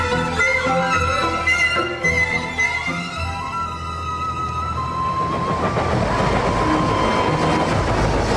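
Train noise at Paddington Station in London: a loud, steady rail rumble that builds into a broad roaring wash, with tonal sounds over it at first.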